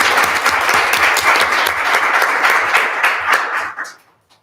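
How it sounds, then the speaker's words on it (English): An audience at a school board meeting gives a loud, steady round of applause that lasts about four seconds and then quickly fades out. No one talks over it. "Give a big round of applause for Tiffany."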